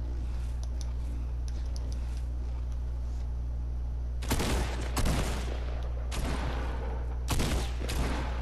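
Gunfire in the video game Fortnite, Star Wars edition team rumble: several short bursts of distant shots over a steady game hum, with faint clicking between them and no talk.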